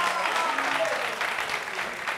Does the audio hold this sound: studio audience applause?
yes